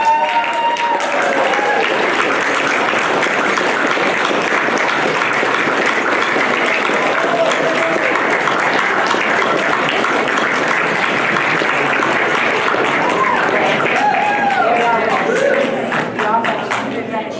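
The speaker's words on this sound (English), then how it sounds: "I would ask you to give a great big hand of applause for Ross" A large audience at the Paddington Art Prize 2015 breaks into sustained, dense applause for prize winner Ross Lowry, a steady loud wash of clapping lasting the whole stretch before fading at the end.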